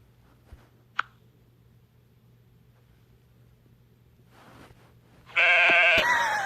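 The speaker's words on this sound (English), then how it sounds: "There goes the sheep." A sheep bleats in the WorldBox video game, a loud, clear bleat arriving near the end after a quiet stretch with a couple of short clicks.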